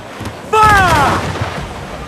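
Ship cannon fire in Assassin's Creed IV Black Flag booms once, loud and close, followed by a rolling rumble and a whistling tail that fades, amid the clamor of a sea battle.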